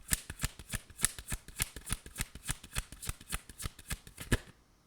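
Tarot cards shuffled in a steady run of about twenty quick, crisp riffling slaps, close and fairly loud, stopping just before the end.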